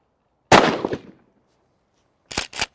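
A 12-gauge shotgun loaded with buckshot fires one loud, close blast that echoes out, then after a pause two quick sharp shots follow almost back to back.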